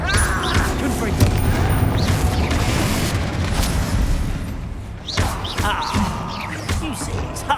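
In Hogwarts Legacy, the Confringo fire spell bursts with booming, thudding explosive impacts amid continuous battle clamor, a pair of heavy blasts standing out, while a voice speaks over the action.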